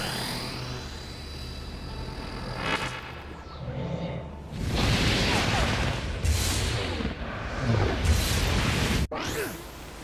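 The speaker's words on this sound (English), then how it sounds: "I can shoot missiles from my hands?" Missiles fired from the hands in the game inFAMOUS Second Son: a rising whoosh builds, then loud rushing blasts and explosions crash in bursts, cut off briefly near the end before resuming.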